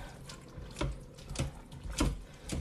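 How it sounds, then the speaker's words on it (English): Spoon stirring chili in a pot of sauce and marinara, three soft swishing, scraping sweeps in an even rhythm, close and moderately quiet with no talking. "Give it a stir."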